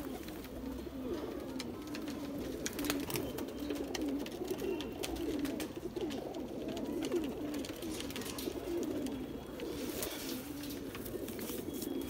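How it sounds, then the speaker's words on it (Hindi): Tittar pigeons coo steadily in a low, throaty murmur, several birds overlapping close by in a loft, with faint rustling and no talk. "ये भी एक तितरे कबूतरों में है जी"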